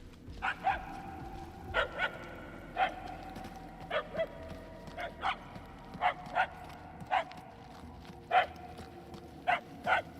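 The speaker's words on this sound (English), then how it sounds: "The barks are getting louder, at least." In the video game Guardians of the Galaxy, a dog barks repeatedly at a moderate distance. The single and doubled barks are spaced about a second apart, over a low rumbling ambience.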